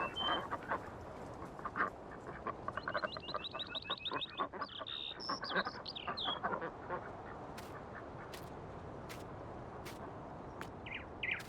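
Ducks quack in the Farming Simulator 19 video game on the Stara Huta map, a run of rapid quacks and honks followed by sharp scattered clicks over quiet ambient background.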